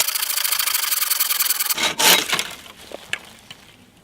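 A pole saw cuts through wood at a spring camp: a loud, continuous rasping stroke runs for almost two seconds, then a few shorter scraping strokes and light knocks follow, close by with no talk.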